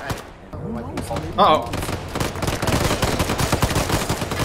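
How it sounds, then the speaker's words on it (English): Gunfire in the Arma 3 STALKER mod: dense, rapid automatic bursts crackle continuously through most of the moment, with a voice briefly speaking over the shooting near the start. "I seem to have shot a man in the head and he shot me back."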